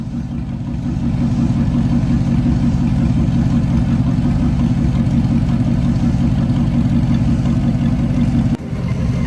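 A Chevrolet Camaro engine idles close by with a loud, steady low rumble and an even pulse that holds for about eight seconds, then drops off abruptly near the end.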